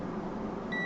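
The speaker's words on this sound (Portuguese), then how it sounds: "vamos ver quais estão bipando" A multimeter continuity test on a circuit board terminal, while hunting a short on secondary power rails, gives a single short steady beep near the end over a faint background hum.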